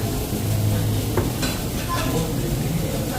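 Food sizzling steadily in a hot pan, a continuous crackling hiss with an occasional clink of a utensil.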